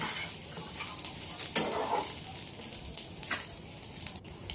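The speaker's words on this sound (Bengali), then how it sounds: "তো আমার ডিমটা ফ্রাই হয়ে গেলে আমার ম্যাগিটা আমি এর উপরে দিয়ে দেবো। দিয়ে দেওয়ার পরে এটাও একটু নাড়ব।" Maggi noodles are stirred over a fried egg in a hot pan, giving a soft steady sizzle with scraping strokes and a few sharper clinks of the utensil against the pan.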